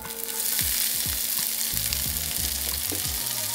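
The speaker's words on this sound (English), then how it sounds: "then we're gonna saute some onions, throw our fresh garlic in." Onions and fresh garlic sauté in a pan, giving a steady loud sizzle with scraping stirs and clunks of a utensil against the pan, close by and without speech.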